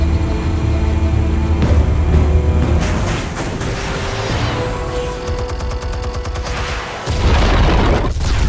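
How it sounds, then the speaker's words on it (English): An explosion in the Telltale Batman series game: a loud, sustained booming rumble with crackling bursts and debris, close and dense, dipping briefly before another deep boom near the end, with no speech. "Explosives armed. Fire when ready."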